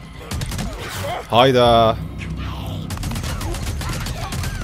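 Burst of rapid gunfire from the video game Days Gone, a loud rattling volley of about half a second standing out over continuous talk from a player.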